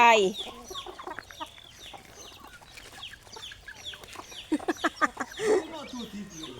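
Chickens clucking and squawking close by in a busy flock as they are fed, with scattered sharp calls and people talking over them.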